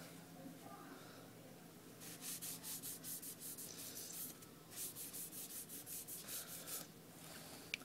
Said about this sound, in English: put a drop of mineral oil on it, and it'll be complete. Now just rub it in.